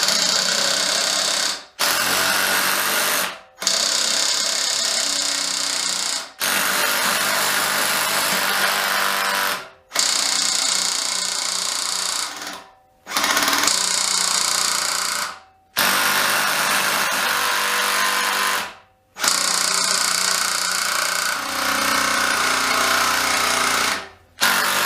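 A RYOBI R18QS Quiet Strike impact driver drives fasteners in repeated loud bursts of rapid hammering, each lasting a few seconds and separated by brief silent pauses.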